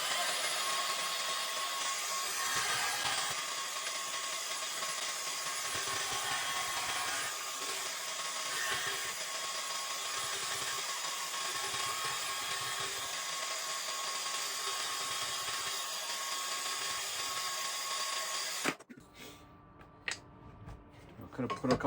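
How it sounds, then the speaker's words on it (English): A bandsaw cutting a steel santoku kitchen knife blank, a loud sustained high-pitched grinding whine that runs steadily for most of the time, then stops abruptly near the end leaving quieter shop sounds. "we can go ahead and cut this out at our bandsaw over here"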